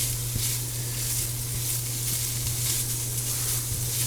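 Ham and potatoes sizzle in a pot on high heat for a ham and cheesy potato soup, a steady close hiss and crackle running without a break, with no talk.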